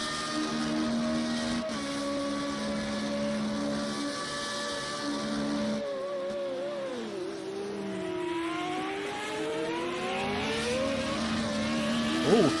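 An FR35 open-wheel race car in Austria accelerating hard out of turn 1 and up a hill, engine note climbing through the gears with audible shifts, loud and close throughout with no voices.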